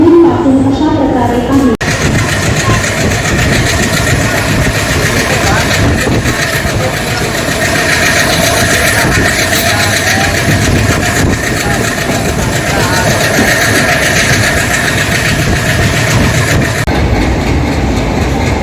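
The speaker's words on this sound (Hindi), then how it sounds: "सेंट्रल रेलवे का ये दादर स्टेशन है और चेन्नई सेंट्रल सुपरफास्ट एक्सप्रेस यहाँ समय पे पहुंची" A Chennai Central Superfast Express stands at Dadar station on the Central Railway in Mumbai, a loud constant rumble of engine and carriages filling the platform, with voices mixed into the din.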